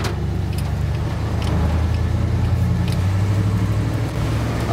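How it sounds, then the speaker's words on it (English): Custom 1956 Ford F100 panel truck with an automatic transmission, its exhaust giving a deep, steady rumble that rises and falls slightly while driving, close and continuous with no talk. "I love the exhaust sound of this truck."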